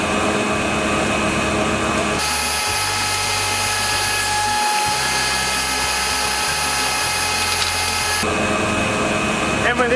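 A spindle moulder fitted with an adjustable bevel head runs steadily while cutting cladding boards, its loud continuous whine broadening into a heavier cutting roar for several seconds in the middle before easing back.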